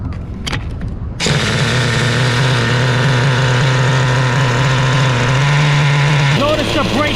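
Traxxas 3.3 nitro engine in a Jato RC truck: after a brief quiet start with clicks, the small engine fires into a steady, buzzing high-pitched idle that holds evenly, then shifts near the end as something whirs.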